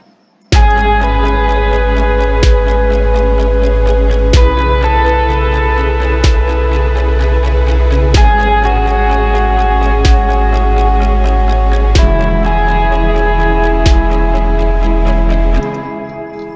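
Electronic dance track with a steady kick drum and snare beat playing together, heavy bass underneath and sustained synth tones, loud and continuous before cutting off near the end.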